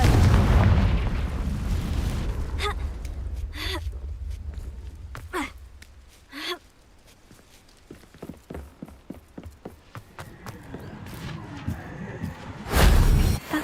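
A Confringo spell explodes with a broadband blast, followed by a run of sharp cracking impacts and crackles, with another heavy burst near the end. The sounds are loud and close over a low rumbling background.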